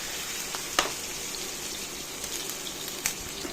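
Jerk salmon fillets fry in plenty of oil in a pan, giving a steady, close hiss of sizzling broken by a few faint pops.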